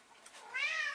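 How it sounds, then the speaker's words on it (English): A pet cat named Sheldon lets out a single drawn-out meow, close by and fairly loud, rising and holding its pitch over the last half second after a brief quiet rustle. "I have this cat"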